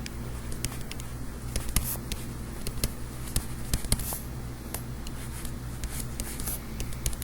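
A blue pen writes math notes on paper in quick, scratchy strokes and taps, a close, quiet, continuous scribbling with no talking.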